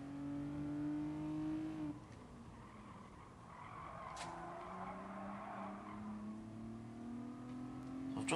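Renault Clio race cars in GT Sport, several engines revving and shifting close by, with a gear drop around two seconds, then a broad rumble of nearby cars and a brief tire squeal.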